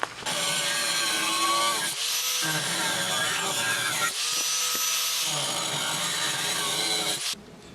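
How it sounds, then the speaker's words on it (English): An angle grinder works the steel corners of a DIY boat stand, rounding off sharp edges in three loud bursts of harsh grinding, with brief pauses where the motor drops in pitch between passes. "I zapped off these little corners and rounded them a little bit, touched them up with the grinder so I didn't have any sharp edges"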